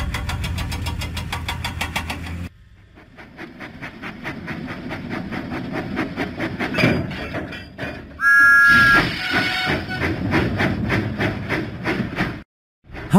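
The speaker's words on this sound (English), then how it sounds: "Huffing and puffing, Thomas set out for the Sodor Search and Rescue Centre." An animated Thomas the Tank Engine steam locomotive in a children's video game, chugging in a loud, steady rhythmic pulse, then fading into a softer rumble, with a brief bright whistle-like tone partway through.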